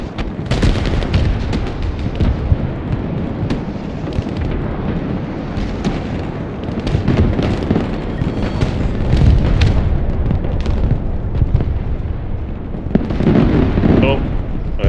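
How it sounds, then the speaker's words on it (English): Infantry launcher fire and explosions in the video game Broken Arrow: a steady, loud barrage of booms and sharp bursts rolling on for the whole stretch, with a voice talking now and then underneath. "infantry can fire their launcher on the move for real"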